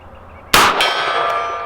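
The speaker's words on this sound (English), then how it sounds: "Let's go for the gong." A .357 bullet from an S&W 627 V-Comp revolver strikes a steel gong, giving one sudden loud metallic clang that rings on and slowly decays.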